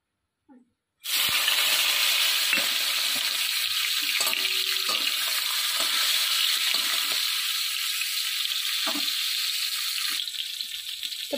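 Hilsa fish heads fry in hot mustard oil, a loud steady sizzle that bursts in abruptly and crackles continuously, close up with no voices.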